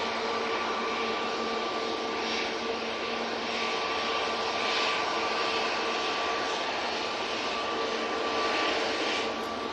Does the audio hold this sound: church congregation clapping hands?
no